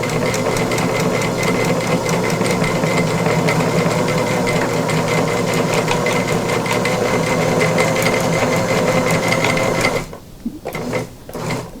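A sewing machine stitches a fabric face mask, a loud steady mechanical whir with rapid needle clatter for about ten seconds, then stops, leaving a few brief handling sounds.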